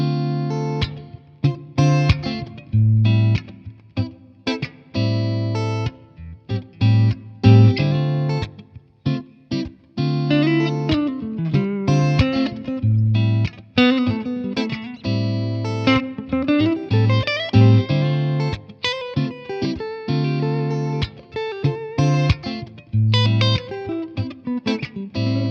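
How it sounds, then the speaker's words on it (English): Electric guitar played through a Fender Deluxe Reverb amp capture with added plate reverb, a clean-to-slightly driven melodic line of picked notes and chords with gaps, ringing with ambient reverb tails, played alone. "This is a Fender Deluxe Reverb, and I've just added a little bit of plate reverb inside a Loopy Pro just for a bit of ambience."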